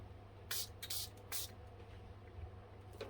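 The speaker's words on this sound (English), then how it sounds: "I will have to spray some water on this" Three quick hissing spritzes from a spray bottle, close and short, with a faint background hum and no talking.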